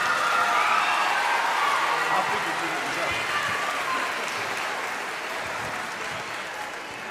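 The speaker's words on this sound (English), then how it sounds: "He's gonna be over our operations, so give him a round of applause." A high school commencement crowd applauds a staff member moving to an operations role, sustained broadband clapping that starts loud and slowly tapers, with faint cheers inside the mass of hands.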